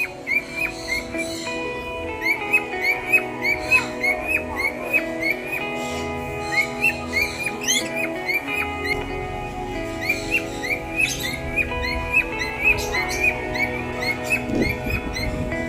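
Lovebirds and diamond doves in an aviary chirp and whistle in a busy, overlapping chorus of rapid, shrill, repeating calls that continues without a break.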